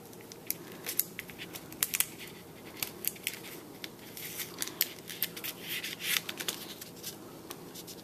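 Paper snipped with scissors to cut a loop for a handmade pop-up card, a steady series of close, crisp snips and small paper crackles, with no talking.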